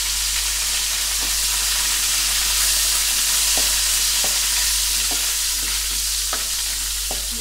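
Tempering for gongura chutney frying in a pan, a steady close sizzle and hiss with a few light clicks of stirring, no voices.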